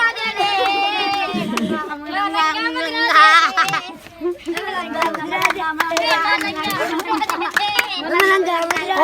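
Children clap in a group as a lively crowd sings and chatters. Sharp, scattered hand claps rise in bursts above loud, overlapping voices.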